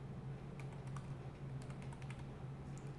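Keys on a computer keyboard clatter in short irregular bursts as a command is typed into a command prompt, soft and close over a steady low hum.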